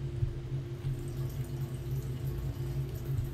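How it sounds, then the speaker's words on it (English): Water runs steadily from a tap in the horror game Agoraphobia, a continuous low rushing hum with a faint splash texture, even and unbroken throughout. "somebody left the water on"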